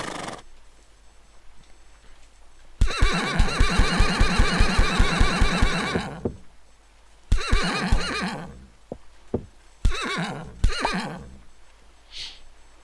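A horse in the Minecraft-style game MineClone 2 gives loud, long whinnies, then shorter neighs and snorts, with a few hoof clops between them and no talk.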